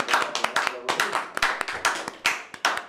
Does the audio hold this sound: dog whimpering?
no